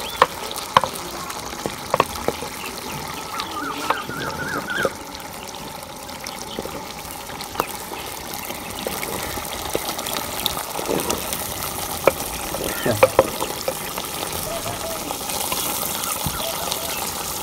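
Aloo palak, spinach and potatoes, cooking in a pot: a steady sizzle and bubbling hiss with scattered scrapes and knocks as it is stirred, continuous throughout.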